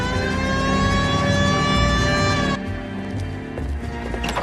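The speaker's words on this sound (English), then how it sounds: "Hit the siren." Police car siren in the L.A. Noire video game, a loud sustained wailing tone that fills the first half, then drops away to quieter driving and engine noise.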